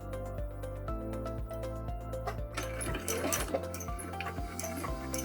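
A sewing machine stitching fabric strips together with a quarter-inch seam, a rapid mechanical clatter of even repeated needle strokes, close and steady, with a brief change in rhythm midway.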